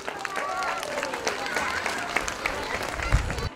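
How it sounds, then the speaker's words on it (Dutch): Crowd at a Sinterklaas arrival in Workum clapping for the fire brigade, a steady mass of applause mixed with cheering voices and chatter throughout. "Een applaus voor de brandweer"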